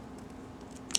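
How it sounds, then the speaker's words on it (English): Scissors snip sewing threads once, a single short sharp cut heard near the end after a quiet stretch, following stitching on a homemade fabric face mask. "cut my threads"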